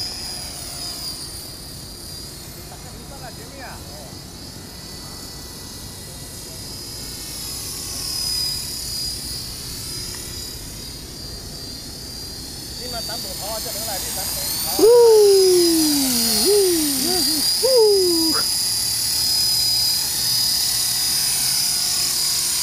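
An X400 RC helicopter flies nearby with a steady high-pitched whine from its motor and rotors, swelling louder partway through, while people talk and call out over it.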